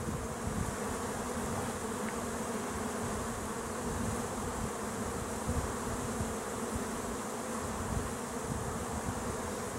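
Dense, continuous buzzing of many bees swarming close by at a hive, a steady droning hum with no voices.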